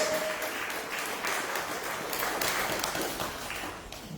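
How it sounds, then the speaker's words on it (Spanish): Church congregation claps for the Lord during a Spanish-language sermon, steady dense applause filling the room at moderate level, easing off slightly near the end. "Denle un aplauso al Señor."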